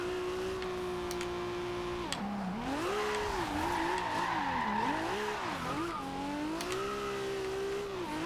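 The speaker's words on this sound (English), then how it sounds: "got wheel spin in third there, wheel spin in fourth" A 1995 Toyota Supra RZ in Forza Horizon 2 revs hard through its gears with wheel spin, the engine note rising and dipping repeatedly over faint tire squeal.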